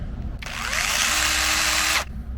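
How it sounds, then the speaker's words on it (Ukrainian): DeWalt cordless mini chainsaw running, a sharp high-pitched whine that starts abruptly, holds steady for about a second and a half and then cuts off, close and loud over a low background rumble. "Все, пила працює як нова."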